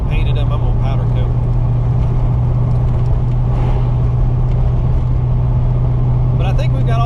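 A 1990 Saleen Mustang engine drones steadily while driving, a strong low rumble that holds level throughout, with a voice talking faintly over it at moments.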